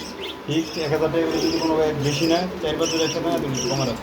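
Diamond doves and fancy pigeons coo and chirp at a bird market, the soft throaty calls repeating steadily under nearby voices talking.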